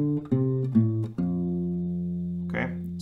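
A lick on an acoustic guitar: a few quick plucked notes, then one long ringing note that slowly fades, close and clean, with a light scrape near the end.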